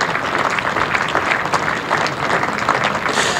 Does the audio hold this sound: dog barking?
no